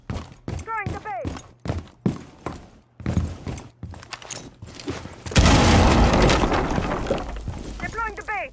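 A base blown up in Rainbow Six Siege: short clicks, thuds and talk lead into one loud, sudden, crackling explosion that roars for about two seconds before dying away.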